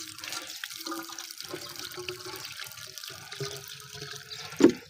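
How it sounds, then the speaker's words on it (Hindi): Water splashes and gurgles steadily into a hand pump for cows at a farm, with a sharp knock near the end. The pouring is faint, and the sound carries the rush of a running tap. "अभी इसमें पानी डालते हैं।"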